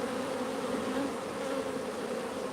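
Honey bees drone steadily around hives in an apiary, a dense, even buzzing swarm close by with no breaks and no talk.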